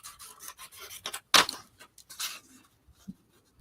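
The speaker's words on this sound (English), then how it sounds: "I think I'm going to trim this down." Paper trimmed for a collage: a short, sharp snip-and-rasp cut in the middle, close and fairly faint, surrounded by soft rubbing and handling sounds with no talking.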